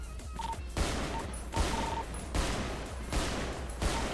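Gunfire rattles through a video game shootout in a series of sharp bursts, roughly one every three-quarters of a second, fairly loud and close, over a constant background hum.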